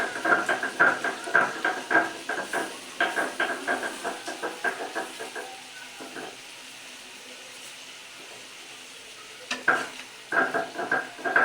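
Potatoes fry with turmeric in a pan as a spatula scrapes and stirs in quick rhythmic bursts over a soft sizzle, pausing midway before the brisk stirring resumes.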